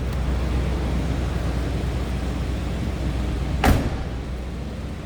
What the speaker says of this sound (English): Listen to that door close.